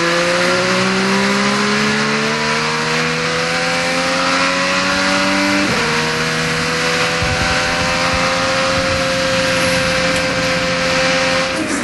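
An IndyCar race car pulls out of pit lane at the Indianapolis 500, its engine note climbing steadily through the gears with a sharp shift midway, loud and continuous against a roaring crowd and track noise.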